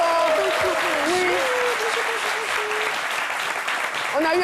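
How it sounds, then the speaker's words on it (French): A studio audience on a French midday TV show gives Miss Alissa Zena loud, sustained applause, a thick even roar of clapping with voices and cheers riding over it. "Je voudrais quand même qu'on puisse l'applaudir très fort."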